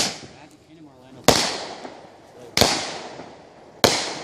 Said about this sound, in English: Now, this is my favorite firework.